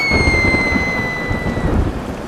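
Thunder rumbles loudly and continuously through a heavy storm with steady rain, a dense low roar for about two seconds with no talking, set as a sound effect in a Victorian gothic audiobook.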